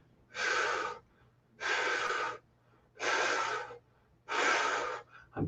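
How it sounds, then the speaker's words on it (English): Four slow, even breaths drawn audibly in a meditation exercise, each long airy inhale or exhale separated by a short pause of quiet, close and clear with no talking. "See how I'm regulating my breathing?"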